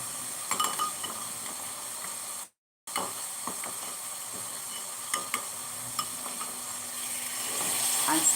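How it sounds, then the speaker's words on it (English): Tomato paste sizzles and fries in a pot with a steady hiss, while a spoon scrapes and stirs in scattered clicks; the sound cuts out briefly, then resumes and grows louder toward the end. "at this point, we'll add in our tomato paste"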